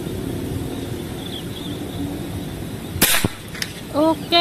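A PCP air rifle from RTC with an Alparusian barrel fires once: a sharp, crisp crack partway through an outdoor long-range accuracy test, with quiet surroundings before and a voice speaking shortly after.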